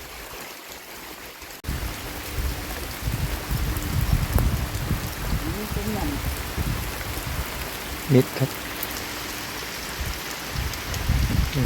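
Steady rain pouring down in a dense, continuous hiss, with a few brief Thai words spoken partway through.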